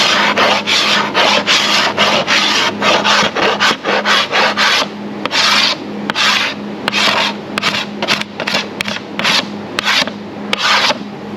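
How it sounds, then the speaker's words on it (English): A hand scraper drawn repeatedly across body filler ridges on a fiberglass panel, making loud rasping strokes in a quick, uneven rhythm, close up with no talk. "You can use one of these scrapers"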